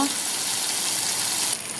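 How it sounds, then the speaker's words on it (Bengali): A ground spice paste fries in hot oil in a pan for a rohu fish curry, giving a loud, dense, unbroken sizzle that drops slightly near the end. "বাটা মশলাটা কিছুক্ষণ ভালোভাবে কষিয়ে নেব।"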